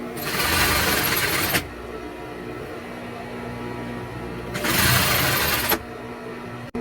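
Sewing machine stitching a cushion, running in two loud steady whirring bursts of about a second and a half each, separated by a quieter pause with a faint background hum, close to the listener.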